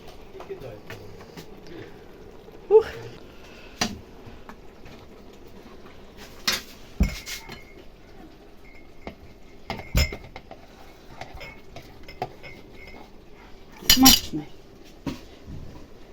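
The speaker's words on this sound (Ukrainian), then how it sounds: "Я буду баночки наповняти, а Віталіна буде закручувати." Glass jars are filled with homemade cabbage salad and their lids screwed on, giving scattered clinks, taps and scrapes at close range, with a few sharper glassy knocks over a quiet background.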